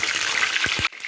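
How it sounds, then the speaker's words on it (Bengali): Sliced pointed gourd (potol) dropped into well-heated mustard oil, giving a dense, steady frying hiss with a few soft thuds from the pieces landing, then a sudden drop to quieter sizzling near the end. "এবার তেলের মধ্যে কেটে রাখা পটলগুলোকে"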